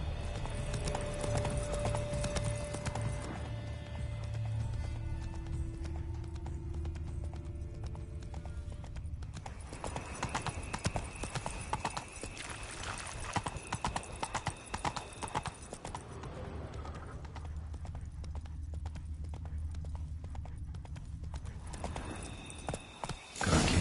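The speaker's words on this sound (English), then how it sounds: "Horses must have gotten spooked." Horses in The Witcher 3: Wild Hunt, Blood and Wine expansion: a steady run of galloping hoofbeats close up, with occasional neighs and whinnies over a constant backdrop of game ambience and music.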